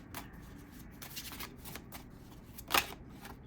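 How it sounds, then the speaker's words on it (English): Cards from an oracle deck are handled and one is pulled, soft close papery shuffling and rustling with a sharper snap near the end, quiet and without speech. "I'm going to pull another card from the Oracle deck."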